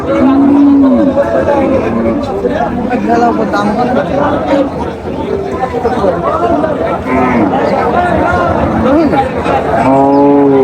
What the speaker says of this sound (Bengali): ওটা গরু